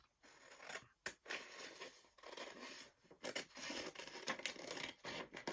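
Scissors cut a t-shirt picture out of a magazine page in a series of close, quiet snipping and paper-rustling strokes with brief pauses between them.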